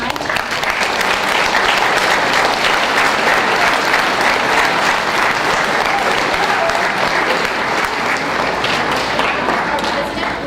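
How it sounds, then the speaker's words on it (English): Dense, sustained applause from a large conference audience fills the room at a steady loud level for about ten seconds, with faint crowd murmur underneath. "Let's give all of our facilitators a round of applause"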